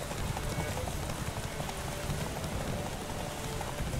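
Horse hooves pound in a galloping derby race in The Witcher 3, a steady dense thumping under a constant wash of stormy rain, with a voice speaking over it.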